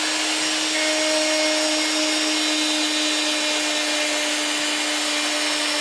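A rotary polishing tool running at a mid-high speed setting buffs a Glock 22C barrel, giving a steady, close, continuous high-pitched whine with a constant tone and no talk over it.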